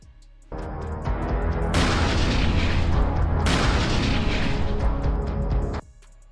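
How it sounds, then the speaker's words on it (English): An artillery barrage striking a defensive sector during a Russian tank offensive: a continuous, dense rumble of booms and blasts that starts abruptly, swells loud for several seconds, then cuts off. "The assault begins with a barrage targeting the designated sector."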